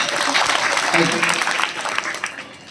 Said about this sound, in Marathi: या दोन्हीसाठी एकदा जोरदार टाळ्या